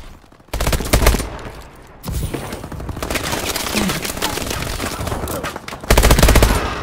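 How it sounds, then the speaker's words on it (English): IMR assault rifle firing in the Advanced Warfare multiplayer video game, loud rapid bursts of automatic gunfire in several runs separated by brief pauses, close and dominant. "The IMR is a really good weapon because of the damage. And it's an assault rifle"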